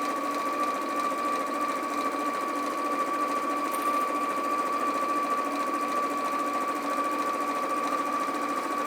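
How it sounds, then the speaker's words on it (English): A sewing machine runs continuously and evenly for the whole stretch, sewing a small row of a Christmas make with a quarter-inch seam allowance, close and steady with a constant whirring hum. "we're just going to sew that little row into place"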